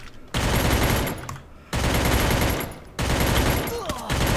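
Gunfire in the video game Free Fire, three loud bursts of rapid automatic fire separated by short pauses, close and sharp.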